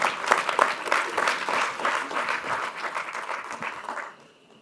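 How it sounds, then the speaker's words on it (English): Applause from an audience at a corporate capital markets day, a full crowd clapping steadily for several seconds before it quickly fades to quiet near the end. "A round of applause for the team from Nigeria."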